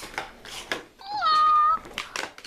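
A cat gives a single clear, drawn-out meow midway, close and fairly loud, set between stretches of nearby talking.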